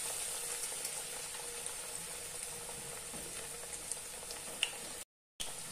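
Poha cutlets coated in vermicelli fry in hot oil, giving a steady, soft, close bubbling sizzle with a few faint pops, then a brief cut to silence near the end.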